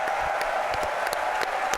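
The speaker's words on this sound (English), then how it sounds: "Ladies and gentlemen, a big round of applause to all of our guests." Theater audience at the Queen Elizabeth Theater applauding guests during The International 2018 late show, a steady wash of clapping held at an even level throughout, with a few sharper claps standing out near the front.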